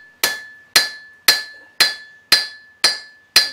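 A hammer strikes iron on the corner of an anvil while a letter opener is forged, giving seven evenly spaced, ringing metallic blows that are loud and close, each ring fading before the next strike.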